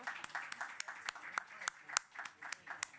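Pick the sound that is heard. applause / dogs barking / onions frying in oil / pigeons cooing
applause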